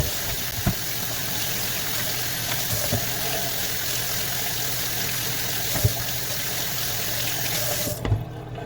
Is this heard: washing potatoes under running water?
yes